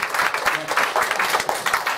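Church congregation clapping to welcome a first-time visitor during a Sunday service, a short burst of dense applause from a roomful of people with a voice faintly underneath.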